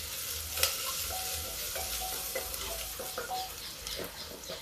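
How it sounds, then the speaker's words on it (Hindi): Onion and asafoetida frying in ghee, a dense continuous sizzle with faint occasional clicks of a spoon against the pan, steady and close throughout, no voices. "ये देखिए अब इस प्याज को हम भून लेते हैं, प्याज और हींग दोनों"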